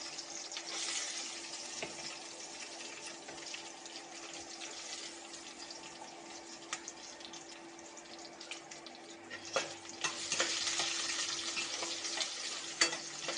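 Steady frying sizzle of chopped onions sautéing in a pan, with occasional stirring scrapes and a brief low hum partway through; no voices.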